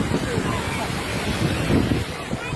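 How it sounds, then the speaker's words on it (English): Strong wind roars across the microphone with choppy sea water sloshing underneath, a dense, steady rush with brief swells, recorded outdoors by the shore in Mexico. "extremely windy today. Water's choppy."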